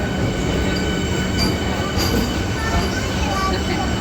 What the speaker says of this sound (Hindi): तो फ्रेंड्स, हमारी वंदे भारत आ गई है।